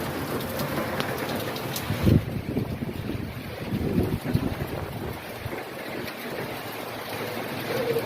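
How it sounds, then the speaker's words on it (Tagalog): Strong typhoon wind blusters against the microphone in sustained, broadband roaring gusts, with a sharp buffet around two seconds and continuous rushing noise throughout, no talking. "Lakas ng hangin."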